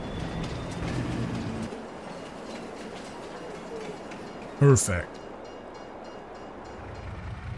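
A train pulls into a station in a farming simulator game, a low rumble building through the scene with a brief loud clank or hiss midway, while someone talks over it.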